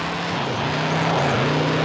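Airplane engine drone overhead, a steady loud hum with a low tone that shifts slightly as it passes, heard alone.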